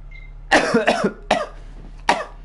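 Three separate coughs from one person, close and fairly loud, the first a quick double cough followed by two single ones.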